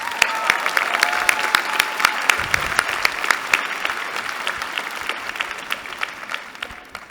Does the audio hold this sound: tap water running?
no